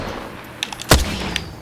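A single sharp gunshot from the Apex Legends video game cracks out at mid-volume, preceded by a few faint clicks and followed by a low rumbling tail.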